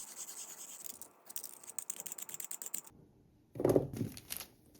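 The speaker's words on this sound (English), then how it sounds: "Now grate your carrots using the small shred inside of a box grater" Carrots are rubbed against the small shredding side of a box grater in quick rhythmic rasping strokes, a pause, then a heavier burst of scraping, close and without talk.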